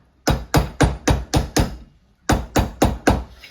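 Hammer blows on a silver bar being shaped around a mandrel: a burst of six sharp, ringing metallic strikes in steady rhythm, a short pause, then four more, loud and close with no talking.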